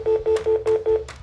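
A cell phone plays a quick run of five or six evenly spaced dialing tones, close and clear, with faint background noise between the beeps.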